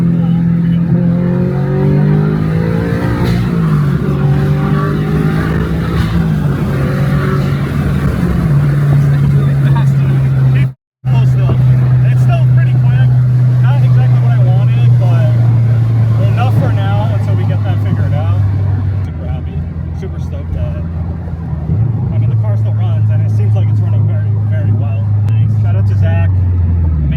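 A turbocharged Toyota GR86 engine pulls through a gear on a dyno, a loud steady drone climbing in pitch, cutting out briefly, then rising again through a long sustained run, with voices talking underneath.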